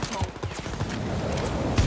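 Dense gunfire bursts in Wolfenstein: Youngblood, set in New Berlin, loud and continuous with repeated sharp transients throughout the short stretch, while a voice speaks faintly underneath.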